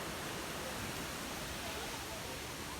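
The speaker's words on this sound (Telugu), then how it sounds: "ఇదిగోండి చూడండి, వాటర్ అలా ఫ్లో అవుతూనే ఉంటుంది." Kothapalli waterfall near Paderu gives a steady, dense broadband rush of falling water that holds constant throughout.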